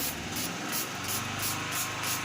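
A spray bottle mists water onto a birdcage veil net in a rapid series of close, soft hissing bursts, about six or seven pumps in quick rhythm.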